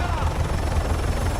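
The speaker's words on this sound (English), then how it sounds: "Watch out for that chopper!" A video game helicopter's rotor thumps in a steady low pulsing chop, loud and close, with broadband engine noise filling the background, in a Call of Duty game.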